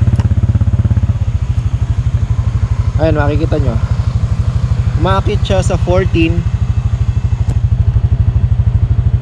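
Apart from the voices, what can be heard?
Honda Click 125i motorcycle engine running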